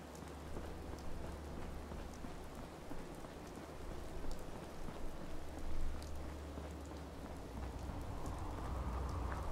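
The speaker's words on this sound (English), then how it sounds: "Poor visibility and rain." Steady rain falls in the Fallout 4 wasteland, a continuous broadband hiss with a low rumble underneath, swelling slightly toward the end with no voices over it.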